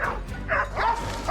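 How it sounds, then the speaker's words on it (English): Hunting dogs bark and yip in a forest while tracking wild boar, a few quick, fairly close barks in a short burst. "Hearing the urge of barking echo through the trees"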